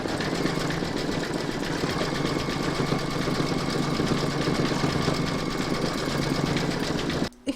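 An embroidery machine stitching a fan pattern in gold thread, a steady fast mechanical whirring and needle rattle running continuously at close range, then cutting off abruptly at the end.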